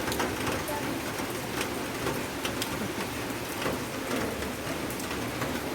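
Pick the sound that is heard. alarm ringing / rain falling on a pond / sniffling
rain falling on a pond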